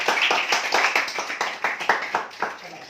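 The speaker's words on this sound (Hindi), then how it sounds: "क्लास में बच्चे के लिए जोरदार तालियां।" A classroom of students claps for a classmate in a short, uneven burst of hand claps, loud and close, fading after a few seconds.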